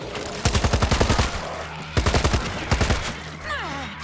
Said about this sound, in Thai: มาช่วยกันยิงเติมกระสุนตรงนี้ เร็ว ๆ